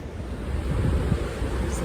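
Ocean waves roll in at Daytona Beach on a chilly, windy day, a steady loud wash of surf mixed with heavy wind buffeting the microphone, with no voices.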